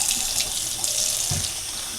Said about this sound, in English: You just kind of let the water run down there, and whatever glue is in there lets go.